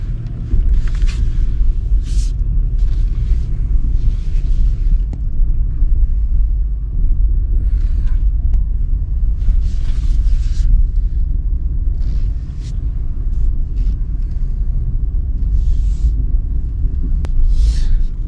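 A 2021 Toyota 4Runner with four-wheel drive engaged backs out of a garage. A heavy low engine rumble holds steady close by, with faint light rattles and clicks over it.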